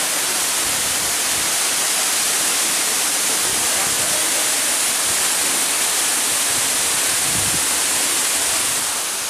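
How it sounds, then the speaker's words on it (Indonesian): Kali Dalam waterfall, about 100 meters high, roars as a dense, steady, loud rush of falling water that fills the whole scene without a break. "lihat ini air terjun men"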